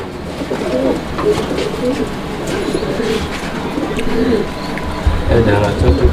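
Fancy pigeons coo repeatedly at close range in a crowded sale pen, their low throaty calls overlapping with the murmur of nearby people talking.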